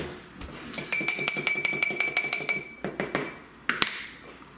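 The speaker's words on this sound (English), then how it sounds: "Now we'll grab some tongs here. Let's mix our salad." Metal tongs toss a parsley-topped salad in a bowl, producing a quick rhythmic series of close, bright clinks and taps, followed by a few louder scattered knocks.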